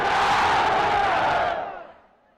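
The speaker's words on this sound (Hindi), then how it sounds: "तो मेरी आवाज के साथ आवाज मिला के बोलो, नारे तकबीर" A large rally crowd roars a religious slogan in unison, a loud sustained mass of voices that fades out after about two seconds.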